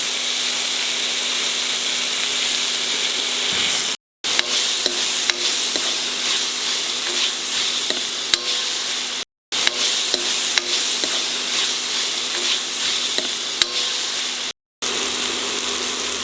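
Vegetables fry in a pan while being stirred, a steady close sizzle with occasional scraping and clinks of the spoon, briefly cut out three times.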